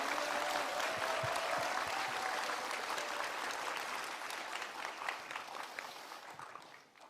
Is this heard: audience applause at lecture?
yes